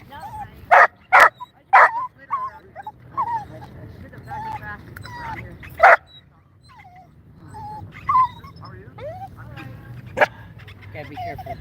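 Excited dog, Rolex, barking in sharp loud bursts near other dogs outdoors, with clusters of close barks early and scattered yips and whimpers later, while people talk throughout.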